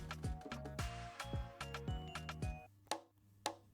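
Repeated conga drum hits from a sample in FL Studio, each a short low pitched tone in a steady pattern, layered over other percussion, with a couple of sharper isolated strikes near the end.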